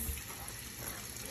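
Tap water runs steadily through a Yorkie puppy's first bath at home, a continuous close splashing hiss with no pauses across the short stretch.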